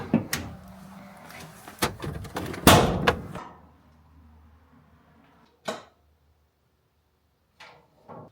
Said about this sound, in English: But let's get the hood popped.